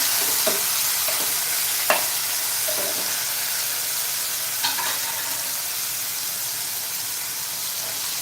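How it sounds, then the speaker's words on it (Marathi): Tomatoes sauté in a hot pan for a spiced masale bhaat, giving a loud continuous sizzle and hiss with a few stirring scrapes, close and alone without any voice. "लगेचच आपण टोमॅटो घालायचा आहे टोमॅटो सुद्धा चांगला परतून घ्या"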